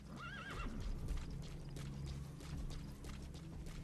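A horse from the Metal Gear Solid 5 video game gives a rising whinny early on, then its hooves clip-clop steadily at close range through the rest of the moment, with no talking over it.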